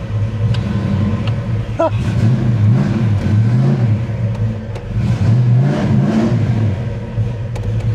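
A car fitted with upgraded heads, cam and intake accelerates hard from inside the cabin, its engine rising and falling in loud, repeated revving sweeps over a constant drone, with a brief chirp-like sound early on.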